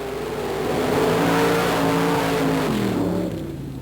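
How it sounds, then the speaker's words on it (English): A 1927 Model T Roadster engine revs loud and close at a mud racing starting line, its pitch climbing and holding in a steady droning roar before dropping and fading slightly toward the end. "Gary, this is a 1927 Model T Roadster."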